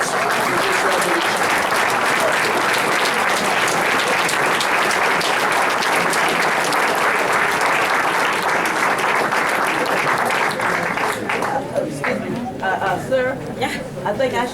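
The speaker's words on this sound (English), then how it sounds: "Please, let's give President Parker a round of applause for this resolution." A meeting audience at a political caucus convention applauds loudly and steadily for about eleven seconds, then the clapping thins out and talking voices come through as it fades.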